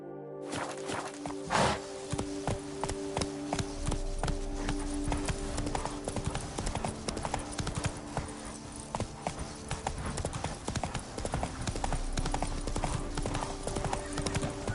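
Roach the horse galloping in The Witcher 3, a steady fast clip-clop of hooves running nearly the whole time, loud and close, with a brief whinny-like burst early on.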